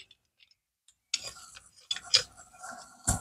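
A wrench tightening a fitting on a pond aerator compressor gives sparse metallic ticks and clicks, close by, in short irregular bursts after a second of quiet.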